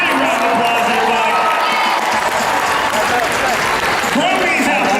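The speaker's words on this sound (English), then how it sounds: "Big round of applause, everybody." Loud, dense audience applause at a cosplay championship, a big crowd clapping and cheering with a few whoops and voices rising through the sustained roar.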